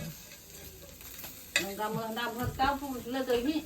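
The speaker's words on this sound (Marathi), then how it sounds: "हा बघा अशा प्रकारे मास भाजून ठेवायचे" Fish roasting in a pan, a soft sizzle with stirring scrapes that grows busier and louder halfway through, close up with no talk.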